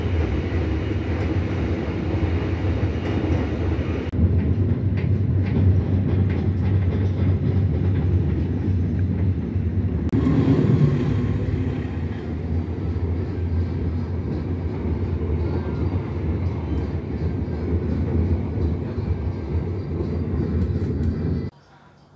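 The Tegal Bahari economy train rolls on with a steady, loud low rumble and faint rattle heard from inside the carriage, continuing unbroken until it cuts off at the end.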